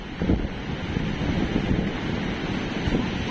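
Strong gusting wind roars against the microphone along the seashore at Dinahican, Infanta, Quezon during Super Typhoon Pepito, with churning waves mixed into the steady low rumble.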